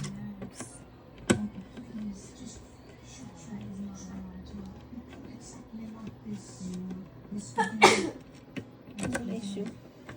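A single short sneeze bursts out near the eight-second mark, loud and close, while someone builds a PC at home amid handling noises and quiet talk.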